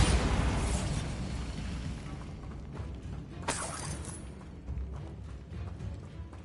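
A Bombarda spell goes off in Hogwarts Legacy with a loud, crashing blast and scattering debris, then a second sharp shattering burst midway through, followed by a fading rumble.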